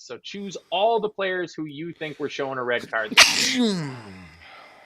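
A person sneezes once, a sudden loud burst with a breathy tail, right after a stretch of steady talk by someone reading out a Premier League football quiz.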